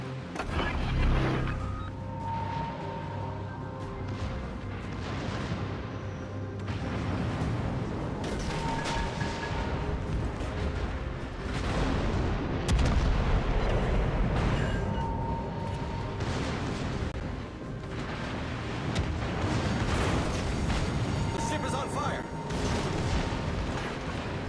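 Naval artillery fire from a Tier VII cruiser in World of Warships Legends, dense booming volleys and explosions layered over continuous battle noise and game announcer voice lines throughout.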